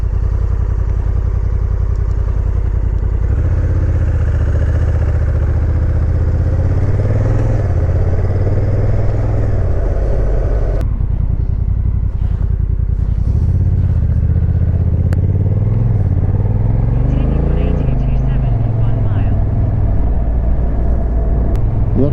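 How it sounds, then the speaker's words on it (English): Honda NT1100 motorcycle engine while riding at around 60 mph, a steady, loud low rumble with wind noise and shifting engine tone throughout. "the engine's not revving like mad, it just feels like it's ticking over and you're doing 60 miles an hour"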